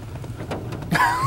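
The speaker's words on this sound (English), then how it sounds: "It's snowing and raining." Rain mixed with wet snow patters steadily on a car, a close, continuous hiss with a louder swell near the end.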